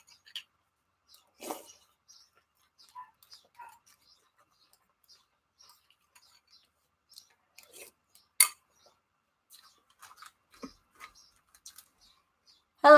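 Cereal being eaten from a bowl, with scattered soft crunches and sharp spoon clinks against the bowl at irregular intervals over near silence, close and fairly quiet, with a louder clink near the end.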